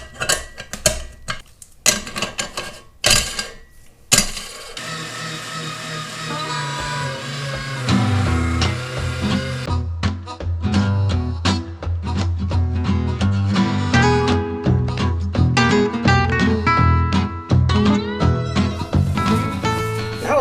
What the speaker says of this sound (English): let's grind some meat. 1 pass through the fine plate should be good enough for this sausage